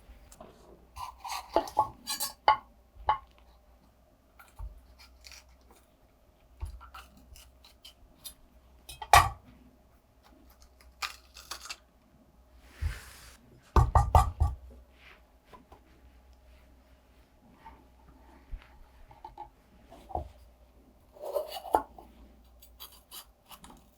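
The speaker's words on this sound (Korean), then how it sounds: "노란 파프리카도 아까 새발나물 굵기 정도로 얇게 채 썰어 줄 겁니다" A kitchen knife julienning a yellow bell pepper into thin strips on a cutting board for tangpyeongchae: sparse, irregular light chops and taps, close but quiet, with pauses between cuts and no talking.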